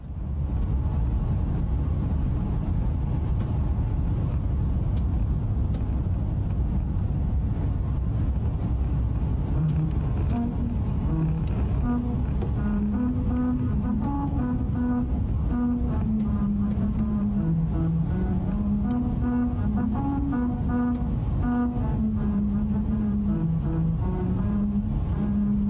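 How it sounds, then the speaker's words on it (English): A car drives over a musical road, its grooved rumble strip sounding a tune of distinct sustained tones that step up and down in pitch under steady tyre and engine rumble. "you can therefore design a rumble strip or some material on a road surface that will play you a tune while you drive over it"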